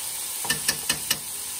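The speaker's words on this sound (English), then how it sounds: "These onions have cooked down a little bit, and I've had a little more to drink. All right, so I'm gonna add some garlic to this." Garlic dropped into a pan of onions that have already cooked down, giving a steady close sizzle with four quick soft pops or stirring taps layered on top, and no voices.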